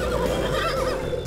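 A cartoon-style horse whinny rings out in a loud, quivering, drawn-out neigh that fills the moment on its own, set in a snowy winter farm scene of a children's animated show.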